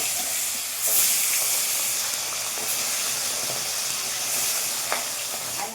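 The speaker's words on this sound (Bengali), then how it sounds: "আদা জিরে আর কাঁচা লঙ্কা আগে ভেজে নেব" A ground paste of ginger, cumin and green chilli fries in hot oil with a loud, dense hiss and sizzle that stays steady and close throughout, with a few faint clinks on top.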